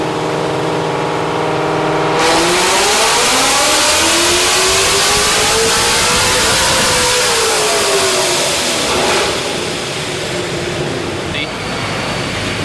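A Procharged Ford Mustang S650 with stainless 1 7/8-inch headers and a Corsa Extreme catback exhaust revs hard, pitch climbing and falling through a long loud sweep before settling, close and dominant throughout.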